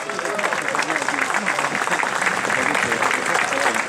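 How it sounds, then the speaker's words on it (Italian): An audience at an award ceremony applauds in a steady patter of clapping, with a voice talking over it throughout. "Un applauso anche a Giusy"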